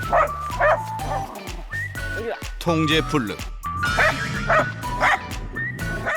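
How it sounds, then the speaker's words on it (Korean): Eight-year-old dachshunds barking repeatedly in loud, close, excited bursts with yips and whimpers, while a person talks over them. "막무가내로 짖는 걸 보니 짖음이 문제인가 봐요"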